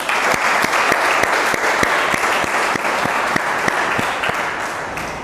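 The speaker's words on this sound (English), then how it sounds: "Please clap for Tanya." Classroom audience clapping for a student after a literature answer, a steady, fairly close burst of many hands with a few sharp individual claps standing out, running evenly for several seconds.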